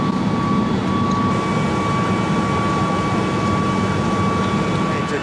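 Steady airplane cabin noise on a flight to Athens, a constant loud broadband engine and air rush with a low droning hum and a faint steady tone, unbroken throughout.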